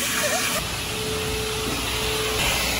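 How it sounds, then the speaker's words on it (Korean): A vacuum cleaner runs steadily at a self-service car wash while a Mini Cooper's floor mats are cleaned, a loud, continuous whine and rushing drone with no break. "약간 청소기 끌려다니는 것 같은데"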